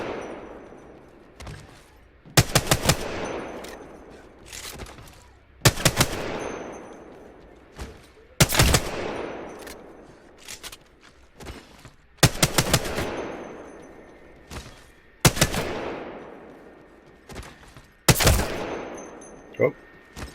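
Apex Legends gunfire on a practice range: six evenly spaced loud bursts of rapid automatic shots, each followed by a decaying echo, with quieter thuds between.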